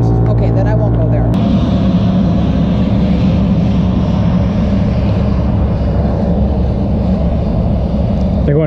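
A small plane's engine drones loudly and steadily close by, with a sharp change in tone early on, then a continuous roar with people talking over it.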